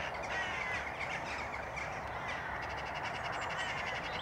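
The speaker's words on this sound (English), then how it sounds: "Magpies in there as well, as you can hear." Magpies call with harsh, chattering cries somewhere off in the distance during a countryside walk near Pangbourne, heard faintly over steady outdoor background noise.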